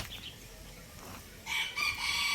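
A rooster crows loudly among tall, long-legged gamecocks in a yard, the crow rising sharply after a quiet, noisy start and carrying through to the end.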